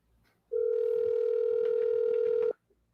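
Telephone dial tone while a call is placed, a steady loud hum lasting about two seconds alone, with faint background noise before and after.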